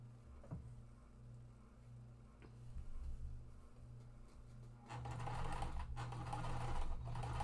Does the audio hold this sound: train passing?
no